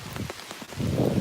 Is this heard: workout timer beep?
no